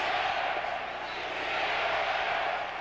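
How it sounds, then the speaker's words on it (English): A big football stadium crowd at a Monday night Seahawks–49ers game roars steadily on a third-and-ten, a dense, continuous wash of massed voices and chanting that stays loud and fairly even throughout. "The crowd chanting defense on 3rd and 10"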